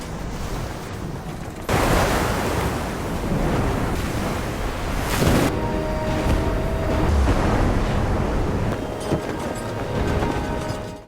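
Rough ocean waves surge in a loud, churning wash that breaks in suddenly and keeps rolling with wind-blown roar and bursts of spray, close and continuous with no voices.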